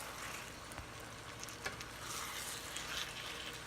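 Peeled, seasoned shrimp are stirred into a simmering shrimp étouffée, giving a steady soft sizzle with faint scraping of the spoon through the thick sauce, close and unbroken.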